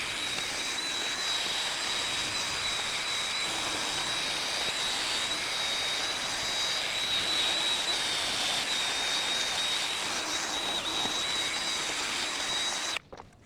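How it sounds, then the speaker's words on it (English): Rust is scrubbed off a Jeep Wrangler wheel hub with a power tool, making a loud, steady, hissing whir with a thin high whine that runs without a break and stops abruptly at the end. "I'm going to clean up the rust on the hub and put the new rotor in"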